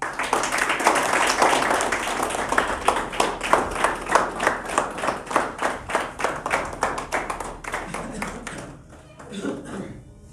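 An audience at a trophy ceremony for young swimmers in Chitral claps in a fairly rhythmic burst that swells, then thins out and fades near the end, with some voices mixed in.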